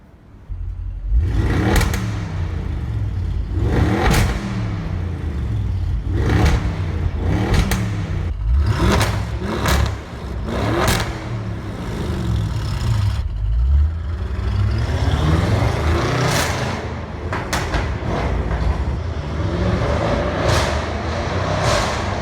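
An Audi RS6 with a Milltek exhaust revs hard in a series of sharp throttle blips, each followed by crackling pops and bangs, loud and close with the engine droning between bursts.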